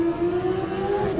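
A Suzuki racing motorcycle at a Manx Grand Prix newcomers race on the Isle of Man pulls away from the start line, its engine note a steady strong whine that rises slightly over about a second, close and loud.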